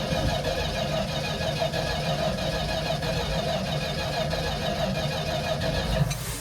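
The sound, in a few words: 1975 Dodge D100 old engine cranking, trying to start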